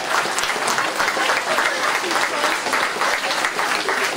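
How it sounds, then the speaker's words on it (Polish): Warm applause from a concert audience at a Christmas carol concert in Belsk Duży, steady dense clapping filling the room without a break. "Jeszcze raz o gorące brawa dla wszystkich artystów."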